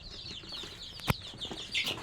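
Sonali breed chickens in a small home farm, soft clucks and chirpy calls with a brief rustle or flap of wings midway, close and quiet.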